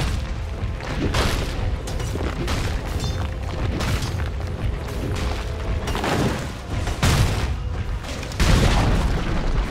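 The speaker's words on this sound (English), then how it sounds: "Dire's middle tower has fallen." Dire's middle tower collapses in Dota 2 amid a dense run of booming impacts and crashing battle effects, loud and continuous with repeated heavy thuds and no talk.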